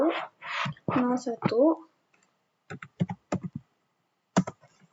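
Computer keyboard keys clatter in short bursts as networking commands are typed, with a person talking over and between the clicks.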